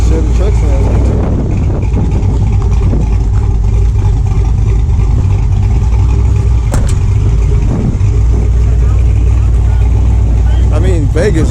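A Chevy truck idles at an outdoor cruise-in car show, its steady low engine rumble running throughout under wind and people talking nearby.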